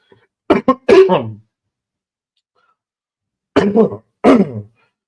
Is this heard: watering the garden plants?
no